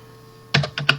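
Three or four crisp keystrokes on a computer keyboard, tapped close and quickly in a short burst after a moment of quiet room hum, while drafting a dovetailed drawer front.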